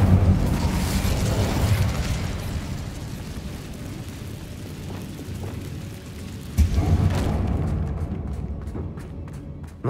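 An Incendio fire spell cast in the Hogwarts Legacy video game, a loud roaring whoosh of flame with booming bursts that fades briefly and then flares up again near the end.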